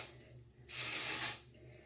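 One short, steady burst of hairspray misted onto hair styled straight with a little back combing, a close, bright hiss lasting under a second between quieter moments.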